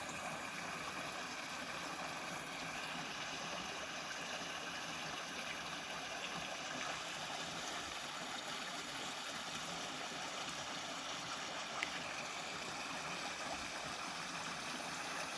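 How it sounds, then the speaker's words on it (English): A small woodland stream tumbles over a waterfall in Macon County, Tennessee, a soft steady rushing wash heard from a little distance, unbroken for the whole stretch. "I'll show you the waterfall one more time."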